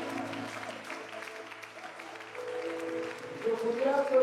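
A church congregation claps and acclaims, steady moderate applause with voices mixed in, swelling toward the end.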